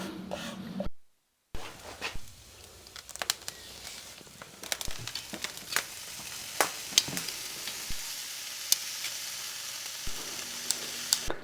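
Spiced lamb chops sizzling fat side down in a wood-fired oven, a constant faint fizz of rendering fat with scattered crackles and pops, close and quiet with a brief silent gap near the start.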